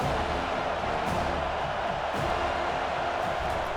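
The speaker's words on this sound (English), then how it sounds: "Here comes this home crowd as the defense tries to get off the field on 3rd down" A home crowd roars as the defense tries to get off the field on third down in College Football 25, Florida State against Boston College, a dense continuous wall of stadium noise without distinct voices.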